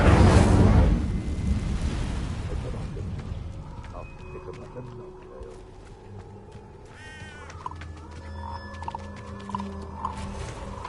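In Hogwarts Legacy, the Incendio fire spell bursts out with a loud whooshing blast at the start, then fades into a crackling flame tail, with softer game effects and chirps trailing behind.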